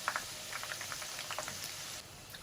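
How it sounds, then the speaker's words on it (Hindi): Chicken wontons frying in oil over medium heat, a steady close bubbling sizzle with small crackling pops scattered throughout, no voices. "इसको हमने मीडियम आंच पे फ्राई करना है"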